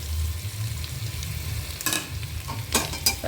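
Steady sizzle of vegetables for khichdi frying in a pan with turmeric, salt and cumin powder, with a few scraping stirs of a spatula near the end.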